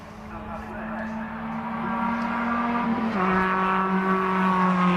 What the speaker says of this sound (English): There goes Lewis over the line.